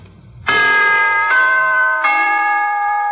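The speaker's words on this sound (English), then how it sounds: "To put it in musical form, here is a holiday wish from the NBC Chimes." Three-note NBC broadcast chimes struck as a holiday greeting on a 1951 radio broadcast, each clear, sustained bell tone ringing out in turn and overlapping as it decays, loud and alone.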